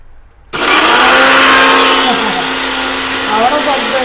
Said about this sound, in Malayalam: മിക്സി